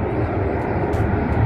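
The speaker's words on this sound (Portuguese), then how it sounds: "o helicóptero Águia fazendo treinamento" Águia police helicopter flying a training circuit over an airport, a steady loud broadband engine and rotor roar that holds evenly without pause.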